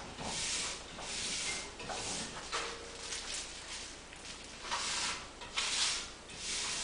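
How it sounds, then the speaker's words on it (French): Excess glue is wiped off the edges of a tubular bicycle tyre, heard as quiet, repeated rubbing swishes in an irregular rhythm, close and soft. "On enlève un petit peu l'excédent de colle sur les bords."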